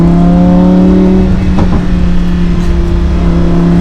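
A Lamborghini Huracan engine holds around 3,000 RPM with a loud, close, throaty drone, a brief crackle and pop bursting through midway before the steady rumble resumes.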